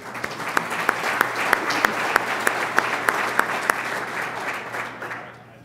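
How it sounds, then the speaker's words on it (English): Audience at a county schools address clapping for the sponsors, sustained applause with a few sharp, distinct claps standing out near the microphone, fading away at the end. "Let's give them a round of applause."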